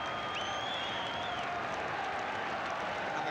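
Football crowd at an FA Cup fourth-round tie, Blackpool against Queen's Park Rangers, applauding from the stands in a steady, continuous wash of distant clapping and murmur that holds evenly throughout.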